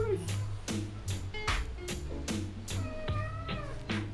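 A small pet cat gives a string of repeated, close meows at a quick, uneven pace, some of them drawn out into whiny cries.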